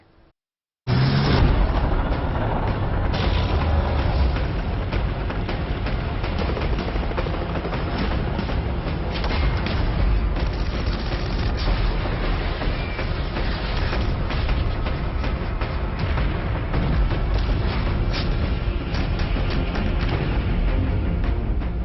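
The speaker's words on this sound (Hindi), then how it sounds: "रॉकेट लॉन्चर से ताबड़तोड़ बरसते रॉकेट" Relentless barrage of booming rocket fire from a rocket launcher, with explosions, loud and continuous, with dense crackling bursts layered over a deep rumble.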